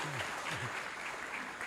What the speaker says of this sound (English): let's give him a round of applause to welcome him